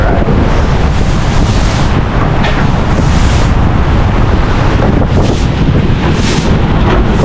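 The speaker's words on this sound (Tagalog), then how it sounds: "Lakas ng hangin." Strong storm wind roars across the microphone at a coastal river mouth, a steady heavy rush blended with breaking surf, loud and constant throughout with no pauses.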